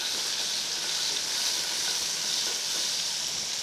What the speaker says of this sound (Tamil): சீரகம் கொஞ்சம் தாளிப்பு போட்டுக்கலாம்.